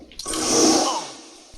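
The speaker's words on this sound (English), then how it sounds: "Those toilets flush like vacuum cleaners." A powerful toilet flush, loud and forceful like a vacuum cleaner, roars in one continuous rushing surge that swells, then fades away, with no voices.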